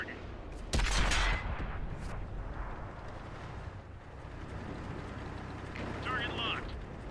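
Tank cannon fire in an online tank battle game: a sharp, loud boom near the start, followed by a rumbling background of distant battle noise and a brief electronic tone later.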